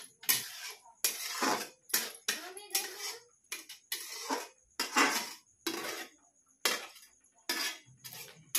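Spices being roasted and stirred in a pan for savoury semolina, a rapid series of loud metallic scrapes and clinks of spoon against pan in quick repeated strokes, close up, with a voice faintly in the background.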